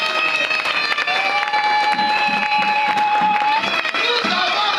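A church congregation applauding and cheering at a pastor's service, with dense clapping and excited voices over a sustained tonal cry, loud and continuous throughout.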